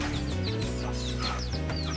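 Chickens and chicks clucking steadily at close range while pecking at scattered corn in a backyard coop, with overlapping cheeps and chirps.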